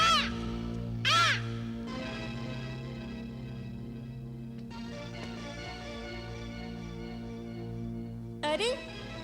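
A parrot gives harsh, caw-like squawks: two short bursts early on and another near the end, all over steady background music.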